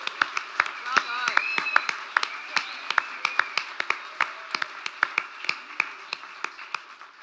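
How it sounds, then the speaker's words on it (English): Audience at an award presentation clapping in a scattered round of applause, sharp individual claps repeating steadily at moderate distance, with a faint voice underneath early on. "So one more round of applause."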